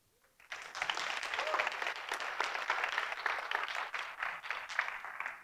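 An audience breaks into applause to welcome a speaker at a developer tech talk, a dense, steady clapping that starts abruptly and holds for several seconds before tapering off.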